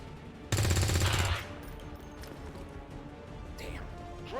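Gunfire in the turn-based strategy game XCOM 2: War of the Chosen, a single loud burst of rapid automatic fire lasting under a second, then fading into a low ambient rumble with faint scattered clatter.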